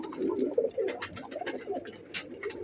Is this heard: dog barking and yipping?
no